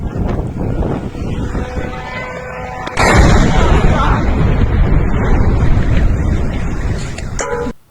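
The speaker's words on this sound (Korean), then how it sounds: "이 주유소에 폭탄이 터져서 뭔가가 꽝 하고 터지는 그러한" A bombing strike on a gas station in Zaporizhzhia lands as a sudden loud blast, then a sustained roar of fire and rumble fills the rest. A voice shouts briefly before it.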